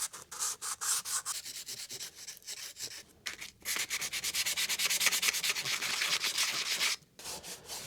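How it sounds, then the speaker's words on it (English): Sandpaper rubs green foam residue off a vintage IBM PS/2 computer case in quick back-and-forth strokes, a close, rhythmic scratchy rasp with brief pauses between bursts. "I might try a little piece of sandpaper on some of the green things like this, where the foam has turned this green"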